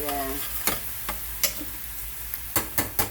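Half a large chopped onion tipped into a pan of taco meat, with sharp scraping and stirring clatters at irregular intervals over a faint steady sizzle, up close and without talk.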